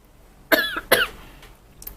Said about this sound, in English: Okay, I'm coughing